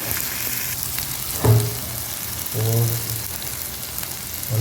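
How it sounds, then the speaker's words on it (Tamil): Drumstick greens with green chillies sautéing in hot oil for a kulambu, a steady soft frying sizzle running throughout with two brief louder bursts of stirring or added ingredients, close and with no talking. "அப்படியே எண்ணெயில் கொஞ்சம் ஒரு 3 நிமிஷம் போதும் வதங்குறது."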